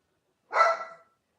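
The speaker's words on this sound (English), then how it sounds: "Oh, there's my dog Lucy." A single short, sharp dog bark, close and fairly loud, rising out of near silence and fading within half a second.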